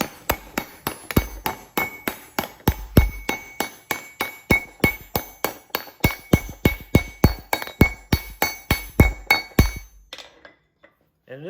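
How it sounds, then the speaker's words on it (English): Steady, rapid rounding-hammer blows ringing on hot metal, about three strikes per second with bright clinking overtones, close and loud, stopping abruptly near the end. "in this case, the rounding hammer."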